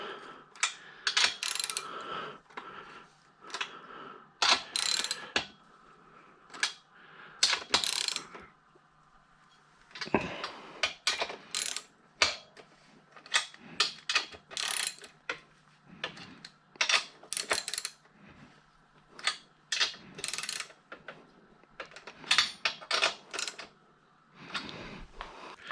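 Repeated ratchet clicks from tightening a gearbox mount on a project vehicle, coming in quick bursts of sharp metallic ticks with short pauses between strokes, close and fairly loud, with no talking.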